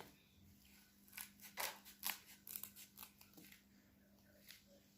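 Scissors snipping through material for a homemade moss pole, a series of short, close crunching cuts in a quick irregular run, with a faint steady hum behind and no talking.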